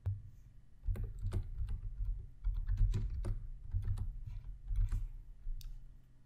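Code being typed on a computer keyboard while writing a Python program, a close, uneven patter of key clicks with short bursts and pauses throughout.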